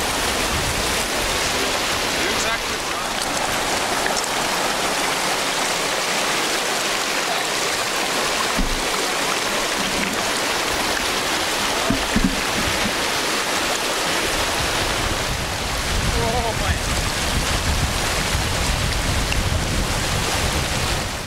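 A big, waist-deep, very cold river rushes loudly and continuously during a wading crossing, its broad turbulent roar filling the whole span with slight surges of splashing.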